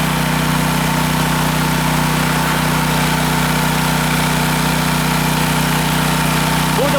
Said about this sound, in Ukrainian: Так, це генератор. Дивіться, я включаю обидві.